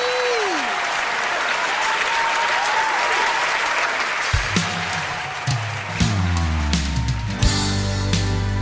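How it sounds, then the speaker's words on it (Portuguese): A television show audience breaks into loud, sustained applause, a dense wash of clapping that carries on throughout while music with a strong bass line enters partway and plays along under it. "Eu quero uma salva de palmas de vocês para ela, Rosa Almeida."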